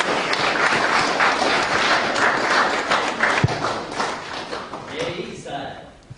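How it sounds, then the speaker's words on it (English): A meeting crowd applauds for coaches with a thick, even patter of clapping that fades away near the end, while a voice speaks over it. "So I just want to just give a round of applause to the coaches"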